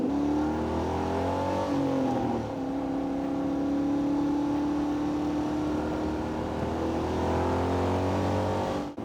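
A V8 sports car engine revs loudly nearby, the pitch dipping and climbing again before holding a steady, throaty drone.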